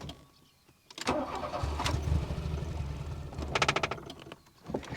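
A VW Golf GTI Mk1 engine cranks and catches after about a second, then settles into a steady close idle with a couple of throttle blips.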